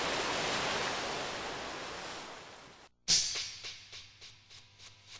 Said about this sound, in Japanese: 少々波があっても、潮下の出る場所なんですよね、でもやはり波が来ますんで